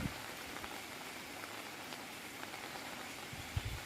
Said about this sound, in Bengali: প্রচুর বৃষ্টি হচ্ছে বাইরে, প্রচুর বৃষ্টি হচ্ছে